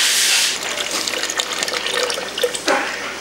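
Coolant draining from the radiator of a 2013 KTM 250 XC-F into a pan, a close, steady splashing trickle of liquid with small gurgles, loud at first and then slightly softer.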